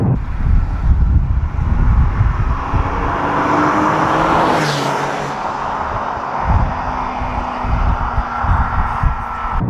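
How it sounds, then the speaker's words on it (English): Porsche 996 911 Targa with its flat-six engine giving a steady, full-throated growl throughout, loud and close with a continuous droning rumble and no voices over it. "it makes that traditional flat six sort of growl"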